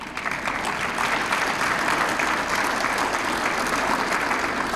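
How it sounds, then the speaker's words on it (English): Steady, dense applause fills a hall throughout a city's State of the City address in Waterloo, Iowa, a full crowd clapping continuously with no pauses and no voices on top. "Now you better applaud for that."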